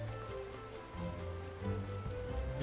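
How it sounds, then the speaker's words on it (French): Steady rain falls in the Gridania area of the online game Final Fantasy XIV, a constant wash of patter alongside looping game music tones, with no one speaking. "Il pleut toujours à Gridania."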